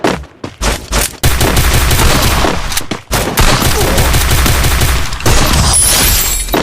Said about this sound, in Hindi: मैंने देखा ना मैंने जंप हेडशॉट मारा है कुछ इस तरीके से